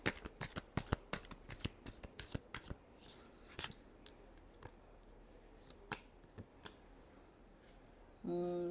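A deck of tarot cards is shuffled nearby in quick bursts of crisp riffling and flicking for several seconds, the slaps thinning to a few scattered taps before a short low burst of sound at the end.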